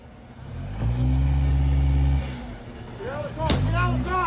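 A two-ton truck engine revs hard as the vehicle rams toward agents, a loud sustained low roar building and holding for about a second before dropping, then returning under frantic shouting voices.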